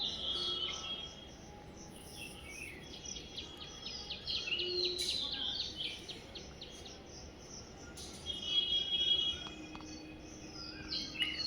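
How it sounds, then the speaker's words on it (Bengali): Birds sing in the morning around a rooftop, several thin chirps and trills at moderate distance over a soft hiss of outdoor background with a faint insect-like drone. "অনেক পাখি ডাকে জানো তো সকালবেলায়"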